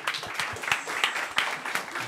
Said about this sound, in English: give one last hand of applause to these